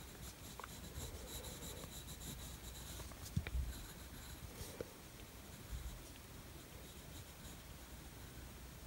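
A pencil scratches darker lines across paper while drawing a set of keys, a soft, quiet rasp of strokes with a few sharper taps.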